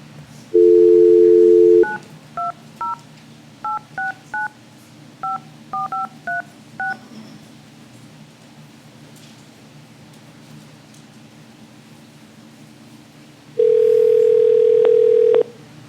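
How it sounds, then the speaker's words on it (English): Telephone dialing at a city council meeting to reach a council member by phone: a steady dial tone, then a quick series of about a dozen touch-tone beeps, then a second longer tone, all over low room hum. "I have to pause to call him"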